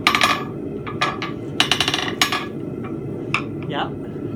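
A 2-pound forging hammer is handled and knocked against metal, giving a string of sharp, close metallic clinks and taps at an irregular rhythm over a steady background hum.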